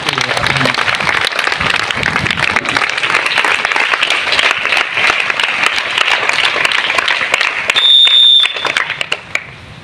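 A crowd at a school birthday charity event breaks into sustained, dense clapping that fills nearly ten seconds, with a short high electronic tone near the end as the applause thins out.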